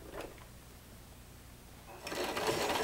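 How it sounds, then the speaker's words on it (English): Sewing machine stitching over slight ruffle gathers onto a fishtail skirt, a steady close whirring hum that grows louder near the end after a soft start. "I'm just sewing over the top of my ever so slight gathers there"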